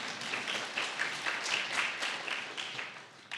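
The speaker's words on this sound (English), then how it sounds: "Yeah, we can clap." An awards ceremony audience breaks into applause, a broad rippling clatter of many hands that swells and dips slightly, heard alone without talk.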